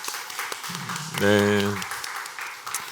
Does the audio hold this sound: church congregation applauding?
yes